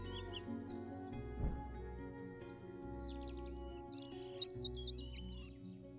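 A red-eyed vireo call from the Wingspan digital board game plays as short, bright whistled chirps over soft background music, clear and fairly prominent.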